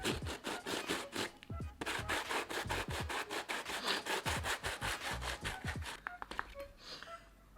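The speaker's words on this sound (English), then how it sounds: "Let's try and sand it out." Sandpaper rubs over a rough wooden surface in quick, regular back-and-forth strokes, close and fairly loud, slowing and stopping near the end.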